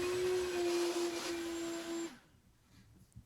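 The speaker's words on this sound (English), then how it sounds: "we're going to grab the shop vac and vacuum out the water in the tank" A shop vac sucks water out of a toilet tank, its motor whining loud and steady for about two seconds before cutting off and winding down into quiet.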